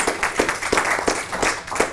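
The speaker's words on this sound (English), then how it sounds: "Let's give the artists one more round of applause." An audience claps for art prize winners at an award announcement, a steady patter of many hands at moderate volume, continuous over the whole short stretch.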